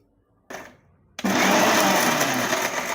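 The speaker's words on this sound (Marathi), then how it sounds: "हा मसाला थंड झाला आहे तर हा आहे ना आपण हलकासा मिक्सरला फिरून घेऊ" A mixer grinder briefly pulses, then runs steadily at full power, grinding a cooled spice masala for amla pickle. The motor whirs loudly and close up with a dense, continuous roar, and no voices are heard.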